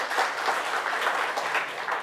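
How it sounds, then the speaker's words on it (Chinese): A church congregation clapping together after a pastor's sermon, a dense steady round of applause that fills the room for a couple of seconds. "给个掌声我们上帝好不好？"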